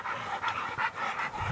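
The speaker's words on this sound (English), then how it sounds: "let's get these dogs off him" Hunting dogs panting heavily during a hog hunt, quick rhythmic breaths repeating about every half second, close and clear with no speech.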